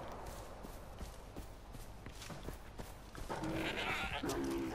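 Goat in the video game Far Cry 4, a couple of nasal bleats near the end following scattered clip-clop thuds and muffled game noise.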